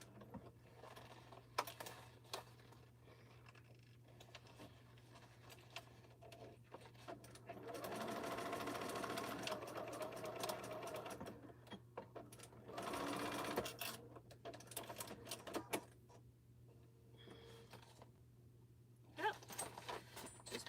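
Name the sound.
sewing machine stitching quilt edge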